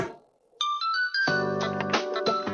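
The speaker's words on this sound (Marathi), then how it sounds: "काकाचाच फोन वाजते" Mobile phone ringtone starting up indoors, a bright chiming melody of bell-like tones that grows fuller after a quiet pause, played alone without talk.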